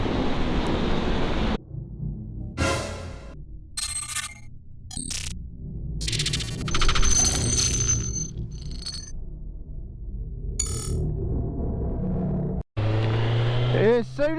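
A 2017 Kawasaki Z900 motorcycle ridden through Paris streets, engine revving and roaring under acceleration with wind rush, broken by several abrupt cuts and bursts, recorded close on the bike, with a rider talking over it.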